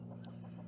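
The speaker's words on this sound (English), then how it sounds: "see that the chickens are doing all right" Chickens cluck softly close by, a few short clucks over a steady low hum.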